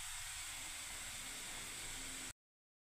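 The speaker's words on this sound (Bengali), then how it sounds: "আর এদিকে ম্যাগিটা এখানে ফুটছে বন্ধুরা," Maggi noodles boiling in a pot, heard as a steady broadband hiss and bubbling rush that holds at an even level for about two seconds and then cuts off abruptly.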